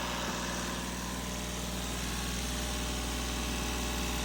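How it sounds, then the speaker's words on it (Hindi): Mahindra Bolero Power Plus engine running steadily, a constant low idling drone with vibration and hum, close and unbroken, no voices. "तो इंजन को रन कर रहे हैं, रन करते रहेंगे"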